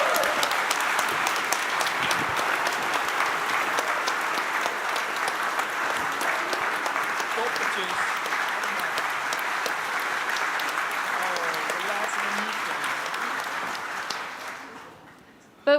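An audience at an exoskeleton reveal event applauds for the engineering team, a dense, sustained roar of clapping that holds steady for most of the time, then thins and fades out near the end.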